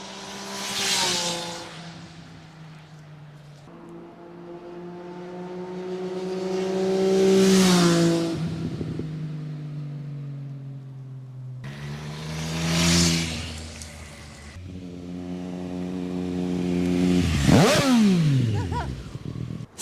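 Triumph Street Triple motorcycle fitted with an Arrow slip-on exhaust makes several passes, each swelling from faint to a loud roaring peak and fading away, with rising and falling engine tones and a Doppler drop as it goes by.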